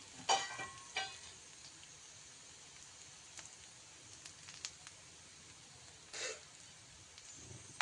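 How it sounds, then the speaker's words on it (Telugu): Coriander leaves fry in a pan with a soft, quiet sizzle, broken by a few louder crackles and scraping stirs. "ఇప్పుడు దీనిలోనే కొద్దిగా కొత్తిమీర కూడా వేసి ఫ్రై చేసుకోవాలి"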